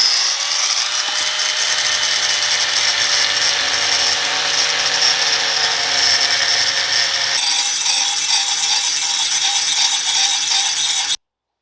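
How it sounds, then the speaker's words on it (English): A grinder grinds the rough-cut edges of an axe head made from a saw blade, a loud continuous close whine that shifts in pitch partway through, then stops abruptly. "we are now going to improperly use the grinder to fix it"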